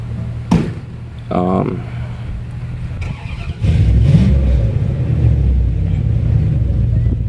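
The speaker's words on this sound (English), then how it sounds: "Vroom vroom goes the truck." Truck engine revving and rumbling as it drives, a steady low growl that swells louder partway through, with a short talking voice heard early on.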